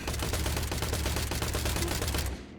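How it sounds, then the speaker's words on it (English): Rapid, dense bursts of shotgun or SMG gunfire from the PC shooter Industria, loud and continuous for over two seconds with a fast stuttering rhythm, then cutting off abruptly. "You can really feel the force of the shotgun or the SMG with each pull of the trigger"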